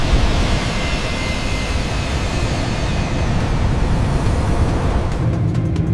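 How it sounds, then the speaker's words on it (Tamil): A fixed-wing passenger airplane in flight heading toward Coimbatore, heard as a loud, steady cabin-style engine roar and rushing air filling the whole clip without pause. "அவ இப்போ போய்கிட்டு இருக்கும் இந்த விமானம் நேரா கோயம்புத்தூரை நோக்கி பயணிக்குது."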